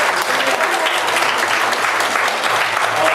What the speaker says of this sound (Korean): 다시 한번 목사님께 감사와 박수합니다